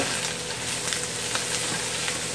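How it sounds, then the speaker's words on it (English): Peppers with their seeds left in fry in a hot pan for a quick stir-fry meal, a loud, dense, continuous sizzle with faint crackles and no talking. "This is all frying up real good."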